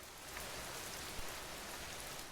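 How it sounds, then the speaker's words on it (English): Steady, soft rain falls during a storm, an even hiss of drops on surfaces throughout with no talk. "As the rain comes down"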